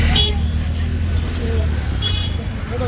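Busy, crowded road traffic near Trimbakeshwar, with two short, sharp car horn toots standing out over a constant loud rumble of engines and street noise.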